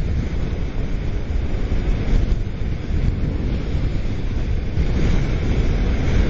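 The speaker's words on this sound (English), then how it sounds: "Let me close my air vents here so I don't get wind in" Wind rushes in through a car's air vents as a loud, steady broadband roar that fills the whole stretch with no break.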